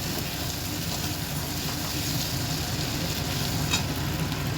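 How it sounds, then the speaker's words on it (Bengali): Potatoes and onions frying together in a pan, a steady close sizzle and crackle of hot oil throughout, with no one speaking. "বাঁধাকপি করবো বলে আলু আর পেঁয়াজ একসঙ্গে ভেজে দিচ্ছি"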